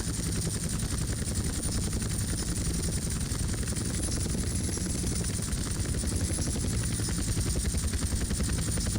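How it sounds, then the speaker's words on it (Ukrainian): Helicopter in GTA San Andreas, a steady loud rotor drone with fast chopping blade pulses and a high engine whine, continuous throughout with no talk. "О, тепер приземлити гелі."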